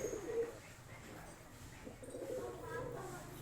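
Faint, low cooing of pigeons drifts in under a murky background, soft and somewhat distant.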